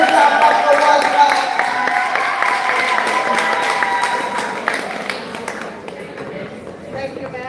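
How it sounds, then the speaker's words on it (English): Audience applause at a gala, a steady dense wash of many hands clapping for several seconds before gradually thinning out, with some crowd noise mixed in. "Put her up for one clap."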